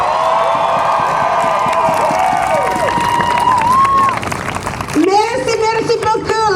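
A large outdoor crowd at a climate justice rally cheers, whoops and shouts in a sustained roar, with a voice calling over the noise.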